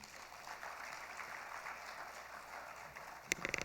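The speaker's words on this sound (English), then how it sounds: "a more robust round of applause for your bank" Steady, moderately distant applause from an audience at a program launch event, a continuous patter of many hands that keeps going throughout, with a few sharper claps near the end.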